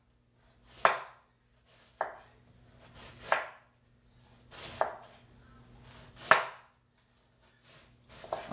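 Knife slicing vegetables thinly for slaw on a cutting board, giving about eight sharp, irregular chops that strike like drum hits, close and fairly quiet with no talk.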